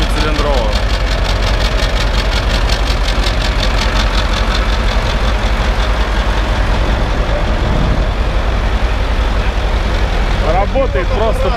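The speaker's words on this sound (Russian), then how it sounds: "Мотоцикл с кетовским движком" A three-wheeled motorcycle fitted with an eight-cylinder CAT diesel engine idles loudly and steadily nearby, a deep continuous rumble running the whole way through, with voices talking over it.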